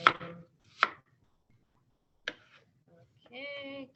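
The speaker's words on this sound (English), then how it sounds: "Onions, you can cut either way," A few sharp knife strikes through onions on a cutting board, isolated close chops separated by silence, followed by a brief voice.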